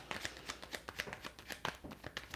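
Quick ripples of cards being shuffled, a rapid flutter of soft snapping taps at close range, fairly quiet and steady.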